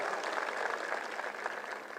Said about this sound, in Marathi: संजय गांधी निराधारच्या कार्यकर्त्यांच्यासाठी टाळ्या वाजून त्याचं अभिनंदन करा